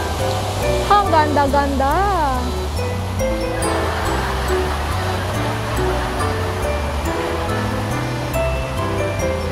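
Water pours down a large fountain waterfall beside a pool in Hong Kong, a steady, close rushing wash under a voice briefly speaking and some tonal background music.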